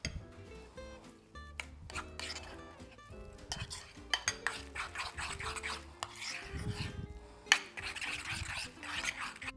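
Ricotta and spinach ravioli filling, seasoned with salt, pepper and Parmigiano Reggiano, being mixed in a bowl, giving busy rasping and scraping strokes at close range, with music playing throughout.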